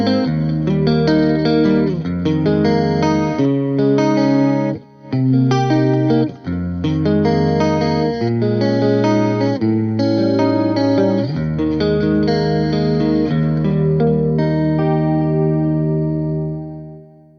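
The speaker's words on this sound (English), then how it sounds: "utilizing the same speaker models, but utilizing the stereo chorus to kind of manipulate the stereo field" An electric guitar with stereo chorus plays through Celestion F12-X200 full-range speakers, giving shimmering, wavering chords and notes in a steady, busy passage that rings out at the end. Loud and close, with no talking.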